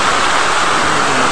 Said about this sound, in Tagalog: Grabe yung ulan to, ang lakas to.